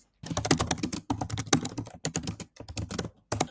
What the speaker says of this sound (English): All right, so I finished typing this